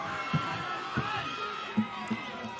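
Crowd on the sidelines of a school 1st XV rugby final at Wesley College in Pukekohe, a steady murmur of spectators with a few scattered thuds, heard at a distance beneath a commentator's voice.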